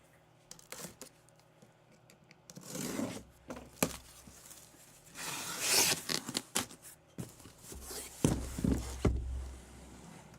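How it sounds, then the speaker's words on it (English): Cardboard of a Topps Holiday Baseball Mega 10-box trading card half case is ripped and torn open, in several bursts of scraping, tearing noise separated by brief pauses, close and fairly loud, with no talking. "Let's get our case ripped open here."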